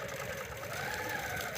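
A sewing machine stitching free-motion quilting on a quilt border runs in a fast, continuous close whir without pause.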